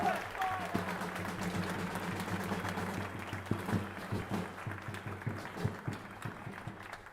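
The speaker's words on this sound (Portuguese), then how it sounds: "Grande uma salva de palmas para o nosso querido Apolo." A crowd at a political speech event in Belém applauds in a sustained wash of clapping, fairly distant and steady, with a voice talking over it at the start.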